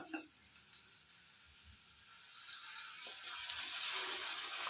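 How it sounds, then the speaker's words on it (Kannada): Ginger garlic paste fries in hot oil in a pan for masala bendi fry, giving a steady close hiss and crackle that swells and intensifies toward the end, with no voices. "ಇವೆಲ್ಲ ಹಸಿ ಸ್ಮೆಲ್ ಹೋಗೋ ತನಕ ಹುರ್ಕೊಳ್ಳೋಣ"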